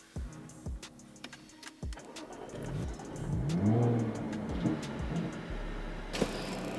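A Jaguar F-Type S sports car pulls away, with a few clicks and thumps, then an engine note rising and sweeping up through acceleration and settling into a steady drive, moderately loud and unaccompanied by talk.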